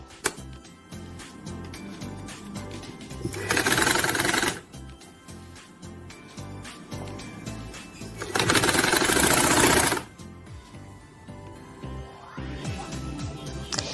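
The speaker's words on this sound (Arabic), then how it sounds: "انا دلوقتي خلاص كده خلصت تركيب الفرنش على المكنه" A sewing machine stitches fabric for a Ramadan table runner in two loud bursts of rapid mechanical whirring. Quieter handling noises and rustling fill the gaps between the bursts.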